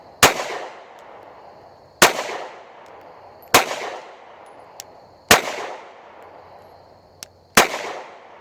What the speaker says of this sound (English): let's do some more shooting